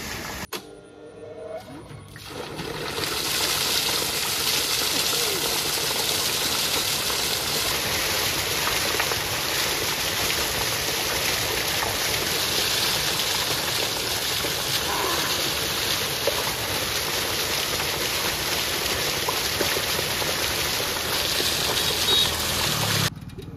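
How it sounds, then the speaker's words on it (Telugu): Purified water pours out in a plentiful, steady rushing flow, a continuous broad hiss that holds at an even level after a brief quieter start. "పుష్కలమైన వాటర్ వచ్చేస్తుంది మనకి."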